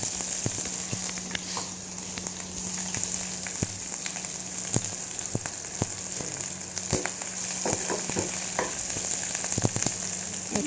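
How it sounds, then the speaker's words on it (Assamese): Onion with ginger-garlic paste frying in a kadai for a chole curry, a dense continuous sizzle up close with scattered spatula scrapes and taps, no voices. "কেৰাহীত মই পিঁয়াজ দি দিলোঁ। পিঁয়াজৰ লগত আদা নহৰু পেষ্টখিনি দি দিলোঁ।"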